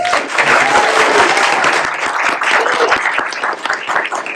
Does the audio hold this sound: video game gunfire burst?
no